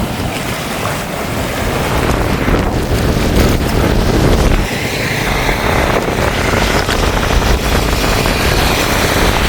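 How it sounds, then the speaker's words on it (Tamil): Strong wind roars across the microphone while waves crash and surge onto a flooded island street, a loud, continuous rush with no voices. "இப்போ வந்து பயங்கரமான காற்று வந்து வீசிக்கொண்டிருக்கிற நாங்கள் உணரக்கூடிய மாதிரி இருக்குது"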